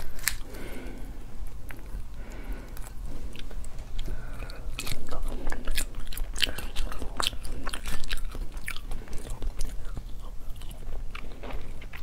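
Ready-to-eat spicy rabbit head being bitten and chewed up close, with loud wet crunches, squishy chewing and gnawing in an uneven, continuous rhythm with no talking.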